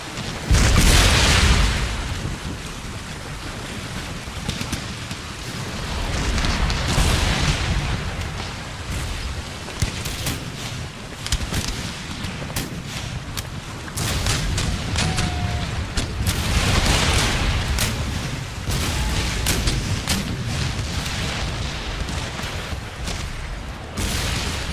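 Musket volleys and cannon fire from troops in the video game Empire: Total War, a dense continuous roar of booms and crackling fusillades with louder swells throughout and no talking.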